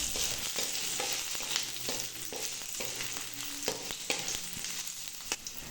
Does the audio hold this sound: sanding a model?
no